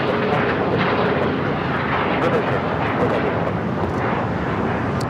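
A Viva Aerobus Airbus A320 airliner at Los Angeles International Airport produces a loud, sustained broadband jet roar that stays constant across the whole span.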